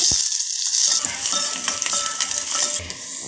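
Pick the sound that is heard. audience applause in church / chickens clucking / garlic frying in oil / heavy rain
garlic frying in oil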